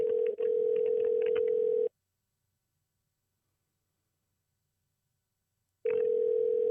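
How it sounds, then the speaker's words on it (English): A telephone line during a call being placed: a steady dial tone runs for about two seconds, cuts to silence for four seconds, then returns. "Let's give him a call."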